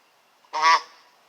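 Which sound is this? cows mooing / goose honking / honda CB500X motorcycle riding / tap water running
goose honking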